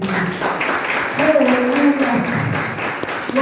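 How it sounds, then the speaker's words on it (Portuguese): Church congregation applauding during a worship service, steady broadband clapping with voices and some tonal music running underneath throughout. "Dá uma salva de palmas para o Senhor."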